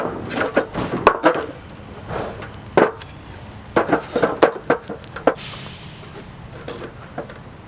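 A knife chops potatoes on a board outdoors, sharp irregular knocks in quick bursts with brief pauses between them, close and fairly loud.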